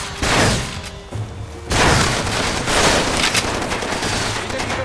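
Gunfire in the Far Cry 2 shooter game, dense bursts of shots with booming impacts running loud and continuous through most of the span, a brief lull near the start.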